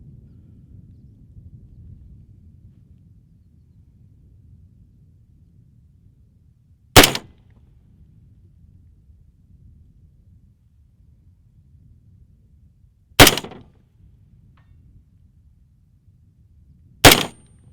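Three rifle shots fired at a target through a Primary Arms 1-8 Raptor ACSS scope, each a sharp, loud, isolated crack several seconds apart over quiet outdoor background.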